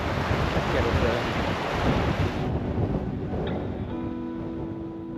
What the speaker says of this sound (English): the wind's quite bad